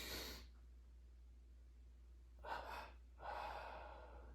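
A person draws two quick audible breaths in during a guided tense-and-release relaxation exercise, preceded by a soft exhale, close and quiet with no speech.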